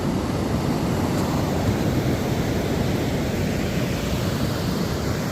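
Steady broadband surf rolls on a sandy Oregon beach at Tillamook as the tide comes in, a continuous wash of waves with some wind noise, no talk.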